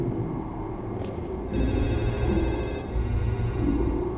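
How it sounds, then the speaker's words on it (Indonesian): A telephone rings in the horror video game Forbidden Siren 2, with repeated electronic trilling bursts over a low ambient rumble, fairly loud and alone without speech. "Ada telepon, tapi dimana teleponnya ya?"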